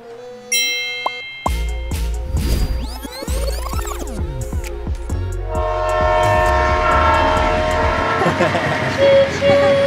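Toy train sound effect: mechanical rolling clatter with a clear horn toot, followed by a continuous chugging rhythm and a brighter tone, all loud and close.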